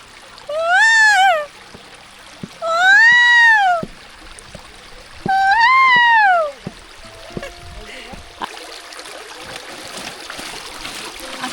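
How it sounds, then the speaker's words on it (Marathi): A peacock calls three times near a rural stream, each call a loud, rising and falling wail, followed by trickling water and faint background noise. "मोर ओरडलं"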